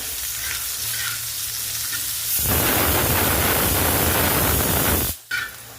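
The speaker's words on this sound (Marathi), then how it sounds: "आता हे भाजून टाकायचा. तेल टाकून परतू द्यायचा." Onion frying in hot oil for a Marathi-style mutton curry, a loud, steady sizzle that surges sharply midway and cuts off briefly near the end, with no talk.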